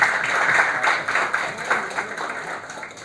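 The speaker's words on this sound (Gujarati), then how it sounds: "ફરીથી એકવાર તાળીઓના ગડગડાટથી આપણે બધાને વધાવી લેવા જોઈએ" An audience at an entrepreneurship program breaks into sustained applause, a dense, even patter of many hands clapping at moderate volume for a few seconds without a pause.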